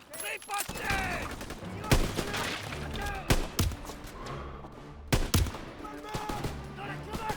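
Enemy gunfire in the Call of Duty WWII video game, with rapid bursts and single shots crackling alongside explosions while soldiers shout orders over the fighting.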